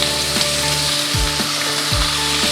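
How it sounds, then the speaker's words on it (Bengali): Green chillies sizzle and fry steadily in hot oil while cooking a squash and prawn ghonto, a dense continuous crackle with a few soft stirring thuds, no talking. "এবার তেলের মধ্যে একটু তেলের মধ্যে কাঁচা লঙ্কাটা দিয়ে দিলাম"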